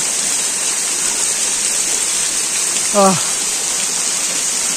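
Water falls down the Shilbunia waterfall near Alikadam in Bandarban, a loud, continuous broadband rush heard up close, with a brief voice sound partway through.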